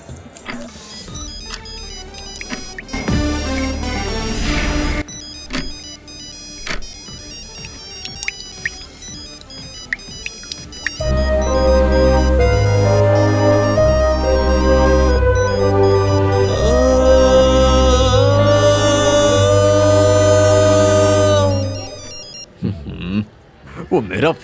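A melodic ringtone plays loudly and keeps repeating for many seconds without being answered, after clattering and brief noises at the start.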